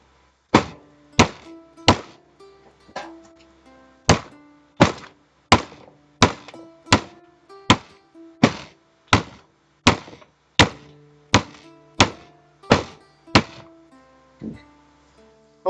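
A mallet bangs repeatedly during a repair job on a Yeti station, about eighteen loud, sharp thunks at a fairly steady pace, each with a short ringing decay, close to the microphone and with no talking over it.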